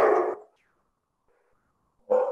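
A dog barks loudly in a short burst, then falls silent for over a second before barking again close by, with no talk.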